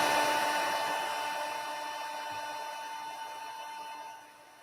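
An embossing heat tool blows hot air onto a card, giving a steady whirring, hissing drone with a faint fixed whine. It stays close and constant, then tails off slightly at the end.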